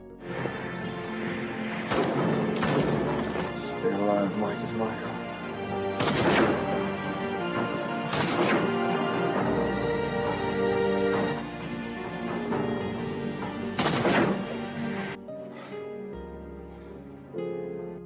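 Gunfire in a desert action film as a wounded man shoots down a group of attackers: several loud, sharp shots spaced a couple of seconds apart, ringing over a dense music score.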